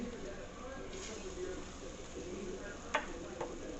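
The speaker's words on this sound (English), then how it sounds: "That way you can start sauteing the sofrito." Sofrito with bouillon, sazon and ham sautéing in a pan, a soft steady sizzle under voices, with a couple of sharp spoon clinks near the end.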